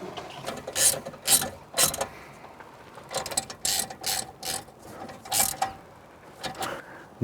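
A ratchet tightens the brake caliper bolts on a BMW E90 325i, a series of quick clicking bursts in short runs, close and fairly quiet, with no talking.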